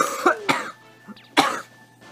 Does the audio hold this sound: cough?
yes